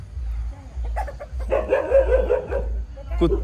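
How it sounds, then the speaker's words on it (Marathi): A dog barks a few short, sharp times at moderate distance near a roadside shrine, mixed with low background rumble and faint voices. "कुत्रा आहे"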